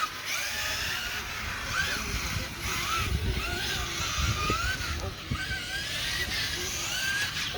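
Kyosho MK2 radio-controlled cars race in the rain on a parking lot, their small electric motors whining in repeated rising and falling sweeps as they accelerate through turns, fairly faint amid wet background noise and voices.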